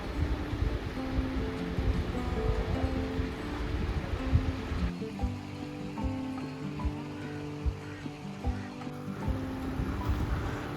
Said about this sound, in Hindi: तो यहाँ पर जो खीरगंगा का नेचुरल गर्म पानी है उसकी धाराएं हैं ये तीनों।